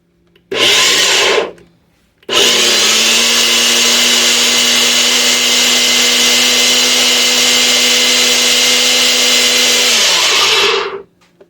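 Kitchen blender pulsing to grind a spicy seasoning mix: a short whirring burst, a brief pause, then a long loud steady motor whine that winds down at the end.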